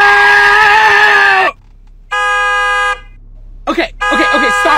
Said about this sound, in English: Okay, stop honking.